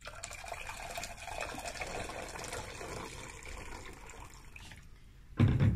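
Hot water pours steadily into a container for a carbon dioxide solubility experiment, a continuous splashing wash that ends in a brief louder burst.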